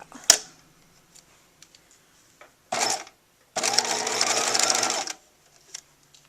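A home sewing machine stitches fabric in short bursts, a brief run followed by a longer steady whirring stretch of about a second and a half, with clicks and handling noises between, close by.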